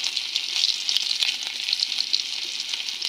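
Onion, garlic and ginger frying in oil in a kadai, a steady bright sizzle and crackle close up with soft spatters, no voices.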